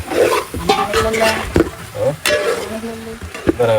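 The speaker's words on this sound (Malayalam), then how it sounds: "ചിക്കൻ നല്ലോണം ഇളക്കി" Chicken being stirred in a frying pan with spice masala, scraping and sizzling in bursts close up, with a voice talking over parts of it.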